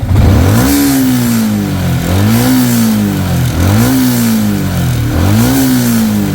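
A Yamaha Sniper 155 motorcycle engine with 58,000 km revs up repeatedly in loud, rising pulls, about four in a row, each dropping back before climbing again, close to the microphone.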